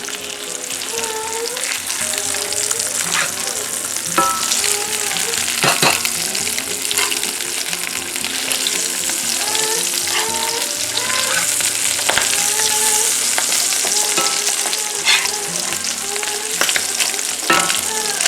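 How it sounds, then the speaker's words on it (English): Eggs fry in a cast iron skillet with a loud, continuous sizzle and crackle, punctuated by spatula scrapes and stirring clatter, while voices talk faintly in the background. "That's how we do them fried eggs."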